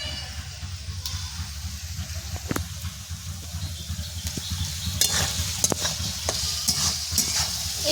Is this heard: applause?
no